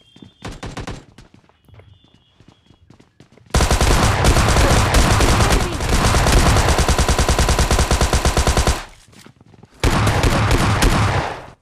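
Close-range automatic weapon fire in the mobile game PUBG Lite, with a few short bursts followed by a long, loud continuous volley and then another burst after a brief gap.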